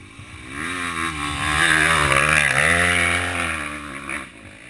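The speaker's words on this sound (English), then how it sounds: "This bike probably sounds pretty good going up that." A motorcycle climbing a steep dirt hill, its engine droning loud and close, the pitch rising and falling as the rider works the throttle, with no talking.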